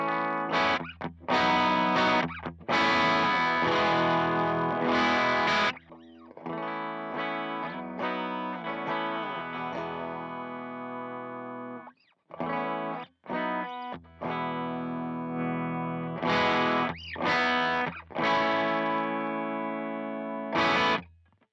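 Electric bass through a compressor and a Strymon Big Sky reverb, as part of a worship rig, plays sustained notes and short phrases with clear gaps, the notes ringing out smoothly before cutting off, alone with no talking.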